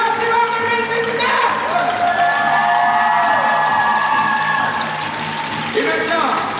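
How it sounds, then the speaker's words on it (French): An audience at the opening ceremony of the Jeux du Québec regional final cheers and applauds the athletes, a sustained loud crowd roar with clapping, while tonal music or announcement sounds ride over the top. "Une bonne applaudissement pour les athlètes"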